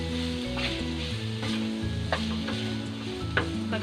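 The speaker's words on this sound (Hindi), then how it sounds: "ये हमारा कीमा गया, कीमे को फ्राई करेंगे।" Minced meat (keema) fries in a pan for aloo keema patties, a steady close sizzle with soft stirring scrapes and squishy spatula sounds, no talking.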